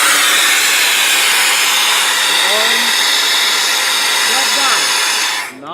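Compressed air rushing out of a train wagon's brake system, a loud, continuous hiss that holds steady for several seconds before cutting off, with a voice speaking briefly underneath.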